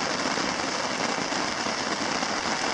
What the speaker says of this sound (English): I don't know if you can hear me over this rain on the tarp. It's really coming down buckets right now.